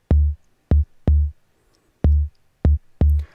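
Six heavily compressed and saturated 808-style bass hits processed through the Slate virtual mix rack with API-style EQ, a Distressor and a saturator, each a loud, dense, sustained boom with a sharp attack, separated by gaps of silence.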